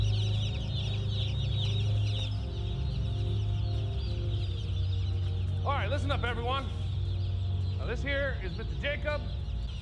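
Chicks chirping and peeping in a chick sexing facility, two bursts of rapid, high cheeps over a constant low machine hum. A voice talks throughout.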